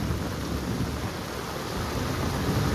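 Steady, heavy downpour with thunder over waterlogged village lanes in Pasodara: an even, close wash of rain noise with a deep rumble beneath it, holding at the same level for the whole stretch.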